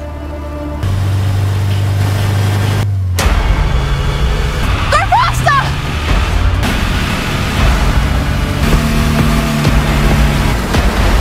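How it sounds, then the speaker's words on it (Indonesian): Car engine in a thriller film rumbling and revving as a car pulls away fast, low steady drone rising under dramatic music, with a brief squealing burst midway and a few quiet voices. "Di saat itu pula Dean menggeber mobil khawatir para berandalan itu mengejarnya."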